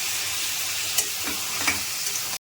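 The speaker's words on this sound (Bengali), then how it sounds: "এবার চিংড়ি মাছগুলো দিয়ে দিচ্ছি, পটল আলুটা দিয়ে দিচ্ছি, সামান্য জল দিয়ে কষিয়ে নেব।" Prawns, pointed gourd and potato fry in a pan with a little water as a steady, close sizzle with faint stirring taps, cut off abruptly at the end.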